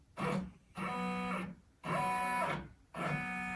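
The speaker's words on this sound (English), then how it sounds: "we're going to do is do a trace and just make sure that we are not going to hit that frame" A Janome embroidery machine runs a trace of the design outline while embroidering a neckline, giving three bursts of steady mechanical whirring and stepping separated by short pauses, close and fairly loud with no talk.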